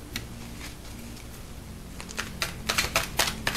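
Tarot cards are shuffled by hand, with soft rustling and then a run of quick, crisp flicks and snaps that grow louder toward the end, with no voices.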